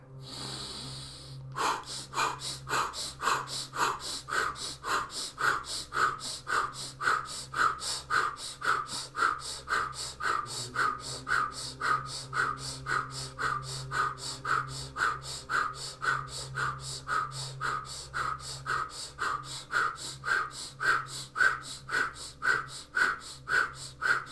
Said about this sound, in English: let's begin in through the nose and out through the mouth